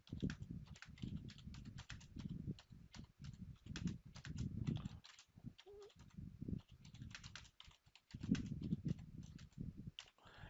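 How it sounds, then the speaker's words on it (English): Rapid, irregular clicking of keys on a computer keyboard, heard up close in bursts with brief pauses, and no talking. "And I started typing."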